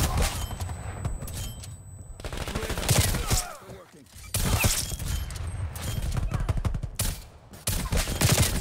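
Gunfire crackles through a Black Ops Cold War match, with an M82 rifle loadout in play: loud, close bursts of rapid shots come in clusters separated by brief lulls, and a voice speaks faintly now and then.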